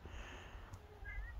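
A cat gives one faint, thin meow near the end, over a quiet indoor background.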